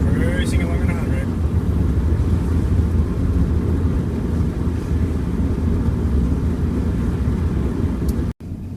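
A turbocharged Subaru EA82T cruises at a steady light throttle around 100 km/h, a constant low engine and road drone inside the cabin with a speaking voice faintly underneath.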